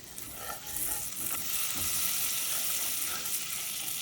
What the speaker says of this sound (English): Just need to cook the sauce until it's fragrant.